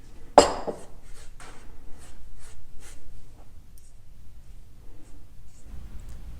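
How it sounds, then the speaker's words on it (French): A pastry brush strokes beaten egg over a Dunkirk-style buttered galette des rois, giving soft, repeated swishing brush strokes after one sharp initial tap, close by and quiet. "Avant la cuisson, on badigeonne la galette d'œuf battu."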